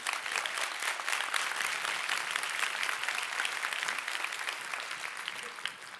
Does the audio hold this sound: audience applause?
yes